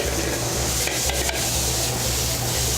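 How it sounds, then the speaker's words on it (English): Precooked vegetables sautéing in a hot restaurant pan: a steady, dense sizzle that holds constant throughout, with faint scraping rubs in the middle. "and then we saute them to order."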